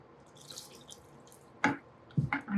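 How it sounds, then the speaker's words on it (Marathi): Water is poured into an okra curry, heard as a couple of short, close splashing bursts after quiet kitchen background. "आपण आता हे पाणी घालून आपल्याला हवं तितकं पातळ करू शकतो आपण"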